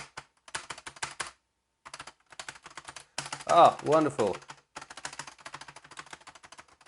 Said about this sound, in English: Keyboard works all along the length now, very reliably.